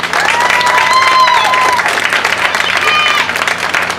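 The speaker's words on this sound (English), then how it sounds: "we'd like to join us in applause and respect our Lady Indian sophomores and their families." An audience at a college softball sophomore day applauds in a sustained burst of clapping with crowd noise, while an announcer's voice carries over the applause.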